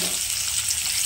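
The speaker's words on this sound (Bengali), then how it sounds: "এরপর তুলে রাখার পর আমি দিয়ে দিচ্ছি পেঁয়াজ কুচি।" Chopped onions frying in oil for chicken biryani, browned into crispy onions: a loud, dense, continuous sizzle heard up close, steady throughout with no talk.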